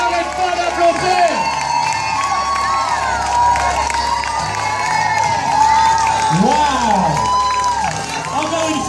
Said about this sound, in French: On n'arrête pas d'applaudir.